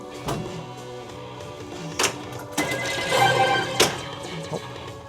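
Electronic telephone ring from a John Wick pinball machine, short ringing bursts mixed with mechanical clacks and thumps of play, close and moderately loud.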